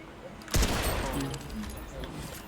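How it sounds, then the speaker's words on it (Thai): A single sharp pistol shot fires in a video game, a loud crack with a short ringing tail, then quieter game ambience. "ยิงปืนพกแม่นขึ้นเรื่อยๆ"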